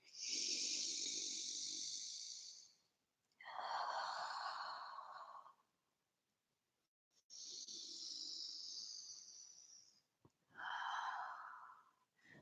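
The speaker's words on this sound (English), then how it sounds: "Take like 2 or 3 big breaths where you feel the back body inflate and the ribs expand." Deep yoga breaths drawn close to the microphone, two full cycles of a long airy inhale followed by a long rushing exhale, each separated by a brief pause, with no talking.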